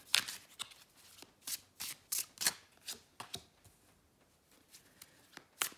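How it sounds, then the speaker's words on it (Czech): A deck of cards being shuffled and laid out on a table, with a string of crisp riffling and snapping bursts at uneven intervals, quiet and close, alone without speech. "K tomu si ještě doložím tři karty"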